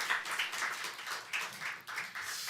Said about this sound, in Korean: 우리 이 아이들을 축복하며 사랑의 박수를 함께 가겠습니다